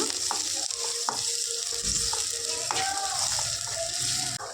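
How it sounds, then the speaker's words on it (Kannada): Finely chopped onions frying in a pan, a continuous close sizzle with occasional scraping and stirring knocks, steady in level throughout. "ಈರುಳ್ಳಿ ಚೆನ್ನಾಗಿ ಕಲರ್ ಚೇಂಜ್ ಆಗೋವರೆಗೂ ಫ್ರೈ ಮಾಡ್ಕೊಳ್ಳೋಣ"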